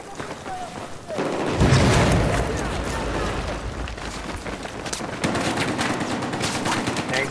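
Gunfire in Battlefield 4 on the Operation Locker map, sustained rapid automatic shots with booming bursts mixed in, loud and continuous, under occasional player talk.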